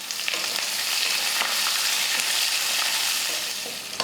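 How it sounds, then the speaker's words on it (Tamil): Onion and curry leaves sauté in a pan for brinjal rice, a steady close hiss of frying oil with light stirring scrapes running throughout, no voices. "வெங்காயம் ஓரளவுக்கு வதங்கினதுக்கப்புறமா"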